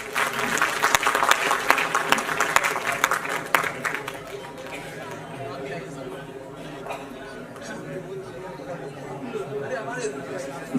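An audience at an award ceremony applauds, with dense, loud clapping and crowd chatter that gradually thins into a quieter, murmuring room, sustained throughout.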